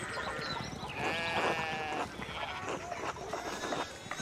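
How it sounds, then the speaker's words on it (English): Sheep bleating in a video game, several overlapping wavering cries at moderate distance over a constant background bed, continuous across the moment. "we need to get these sheep under control"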